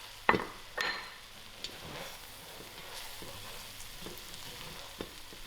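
Tomatoes sizzling and frying in a pot, a steady crackle with a couple of sharp metallic clinks near the start.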